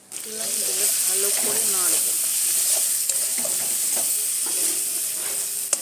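Prawns with turmeric, salt and chili powder are stirred in a hot pan, with a loud continuous sizzle and scraping spatula strokes near the mic.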